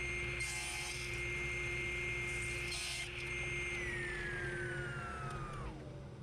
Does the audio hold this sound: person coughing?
no